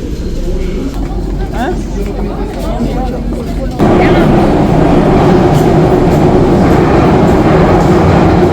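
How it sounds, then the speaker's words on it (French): Loud rumble of a Paris metro train ride with indistinct voices, the roar suddenly growing heavier and denser partway through as the train speeds along. "maintenant on prend le métro."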